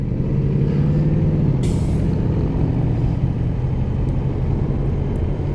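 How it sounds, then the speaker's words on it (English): Big trucks idling and rolling behind a stopped motorcycle on a town street, a steady loud engine rumble with a brief hiss of air brakes released early on, no talking. "Notice the big trucks are behind me."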